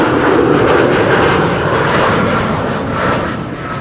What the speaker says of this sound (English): Coming in all the way from Dubai. It is Emirates flight 147.